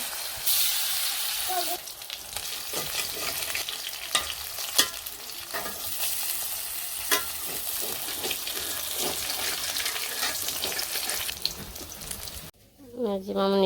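Bora fritters frying in hot oil, a steady close crackling sizzle with occasional stirring clinks, continuing under ambient kitchen noise before cutting to a different louder sound at the end.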